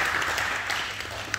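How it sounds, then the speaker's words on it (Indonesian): Church congregation applauding during a worship service, a soft, fairly distant patter of clapping that continues steadily for a short moment. "Kita beri tepuk tangan sekali lagi buat Tuhan."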